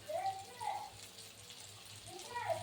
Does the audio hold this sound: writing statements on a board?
no